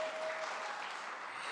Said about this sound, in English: Can we get a round of applause if you can hear me?